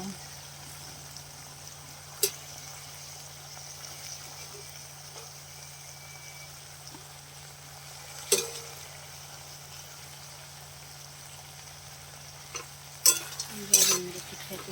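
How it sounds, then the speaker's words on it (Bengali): A spatula stirs okra frying with fish pieces in a pan: faint scraping and occasional sharp taps against the metal over a quiet low hum and a soft background sizzle. "খুন্তি দিয়ে একটু ঘেটে দিতে হবে"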